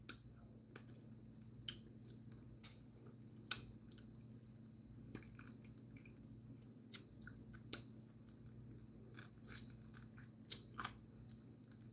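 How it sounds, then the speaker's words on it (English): Crunchy fried fish and seafood is chewed close to the mic, with scattered sharp crisp crunches at an irregular pace over a quiet background and no talking. "You hear all that crunching?"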